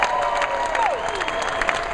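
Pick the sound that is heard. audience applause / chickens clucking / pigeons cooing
audience applause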